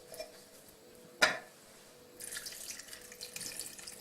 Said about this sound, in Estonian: Ja panen siia tegelikult natukene vett ka sisse.